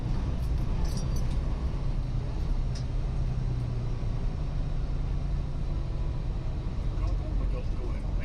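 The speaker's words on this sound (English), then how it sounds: "have to put up with somebody's rattling motor" Rattling motor of a nearby vehicle at a truck stop, a continuous low rumble with faint metallic clatter underneath, a voice talking over it.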